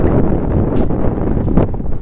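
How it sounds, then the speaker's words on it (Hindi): Strong gusting wind buffets the microphone at Key Monastery in Spiti, a loud, continuous low roar with rustling bursts and no speech. "हवा इतनी तेज़ है यहाँ पे, बहुत ज़्यादा तेज़ हवा है।"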